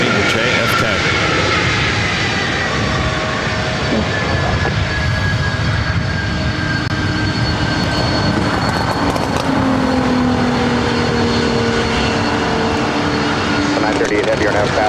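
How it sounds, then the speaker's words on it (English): A Boeing 767-300ER jet roars on takeoff at LAX, a loud continuous engine rush with rising and sliding tones, heard under an ongoing voice. "Another 767-300ER heading to JFK."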